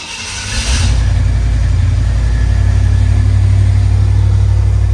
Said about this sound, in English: I might just see if this rig will start.